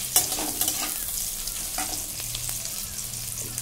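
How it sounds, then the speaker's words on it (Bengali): Onion pieces dropped into a pan of already-fried meat sizzle and crackle steadily, with stirring scrapes and small pops throughout, close and fairly loud, no voices. "এবার পেঁয়াজের টুকরো ছেড়ে দিলাম"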